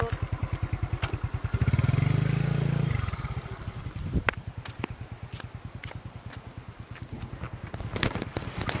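A motorcycle engine idles with a steady, close, pulsing putter on a road trip, broken by a loud throttle rev midway before settling back to idle, with a few sharp clicks and clatters over it.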